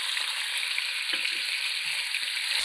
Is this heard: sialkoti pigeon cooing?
no